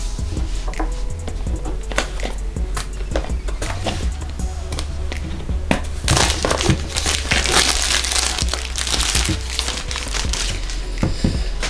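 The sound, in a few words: peeling wrapping off a OnePlus X phone box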